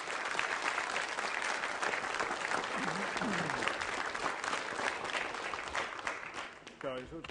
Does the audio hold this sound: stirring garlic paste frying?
no